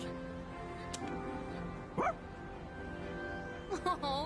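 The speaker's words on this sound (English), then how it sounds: "Oh, he did it! What a smart dog!" Koromaru, the dog in the video game Persona 3 Reload, gives a short yip around the middle and a couple of quick barks near the end, set over steady background game music.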